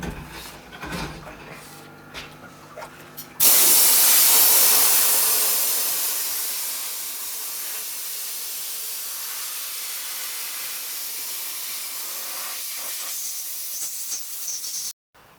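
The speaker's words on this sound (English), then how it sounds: "So now we'll lay it down and we'll go over it with the compressed air and give it a good old dry off." Compressed air blasting over an aluminium motorbike frame to dry it: a sudden loud, steady hiss begins after a few seconds of workshop noise, fades slightly, holds for about eleven seconds, and then cuts off abruptly.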